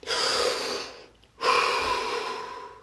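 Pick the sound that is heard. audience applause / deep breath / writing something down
deep breath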